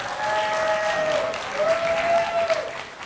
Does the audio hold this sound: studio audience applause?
yes